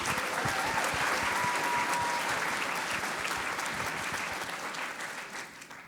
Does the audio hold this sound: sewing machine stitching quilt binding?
no